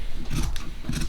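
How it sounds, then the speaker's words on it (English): Cheap scissors snipping through denim while recycling old jeans, two distinct bursts of crisp cutting with a rasping, scraping edge, close and fairly loud, no talking. "Oh my gosh, these scissors"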